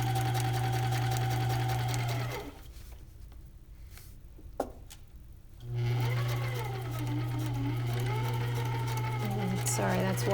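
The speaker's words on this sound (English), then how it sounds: "so that I am stitching along this bottom edge." A sewing machine runs steadily, stitching along the bottom edge of a bag, then stops for a few seconds of quieter handling before the close, loud motor hum resumes with someone talking over it.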